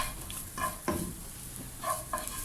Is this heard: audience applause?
no